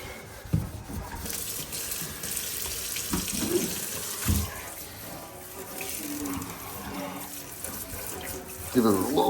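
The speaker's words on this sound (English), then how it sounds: "Give it a little rinse." Tap water runs into a newly replaced sink during a renovation, rinsing it with a steady splashing flow over several seconds; a voice is heard faintly in the background.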